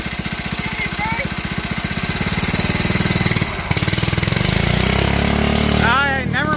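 A Bolens Husky 800 garden tractor, parked for 14 years, runs in first gear with a loud, steady engine chug and rhythmic knocking pulses. A brief dip comes midway, then the motor runs on with some squeaky mechanical chirps near the end.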